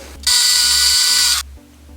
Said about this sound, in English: So I'm going to drill two little holes so that this can feed in.